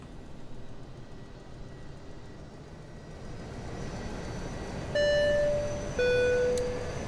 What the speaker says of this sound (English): so let's go ahead and spool up the APU